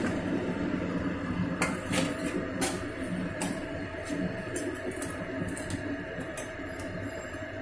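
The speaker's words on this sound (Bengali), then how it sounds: "এবার আমি এর মধ্যে দিয়ে দেব ভেজে রাখা মাছের মাথাগুলো।" Fried catla fish heads tipped into a pot of rice and potatoes and stirred, giving a series of sharp metallic clinks and scrapes over a steady low cooking rumble, fairly close.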